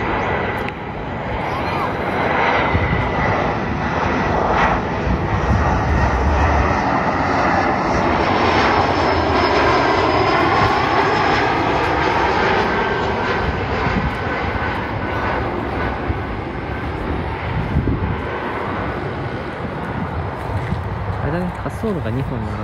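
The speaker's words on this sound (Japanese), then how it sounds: "滑走路が2本並んでて、その隣の滑走路に着陸したんですね。" An airplane landing on a runway beside a river, its engine roar loud and sustained throughout, rising and slowly fading, with voices talking over it.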